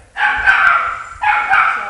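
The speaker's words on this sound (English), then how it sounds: "pardon the dog. Somebody rang the doorbell." A house dog gives two loud, close, sustained barks or howls in quick succession, set off by a doorbell, with a spoken word at the start.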